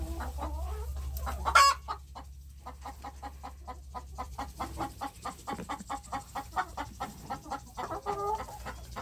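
Chickens cluck in a coop in a steady run of short, repeated calls, fairly close, with a brief louder squawk near the start and low hum underneath.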